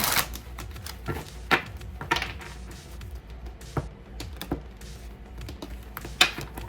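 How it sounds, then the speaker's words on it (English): Rapid, crisp clicking and riffling bursts, like a deck of playing cards being shuffled close by, in irregular flurries. "All right, one more shuffle."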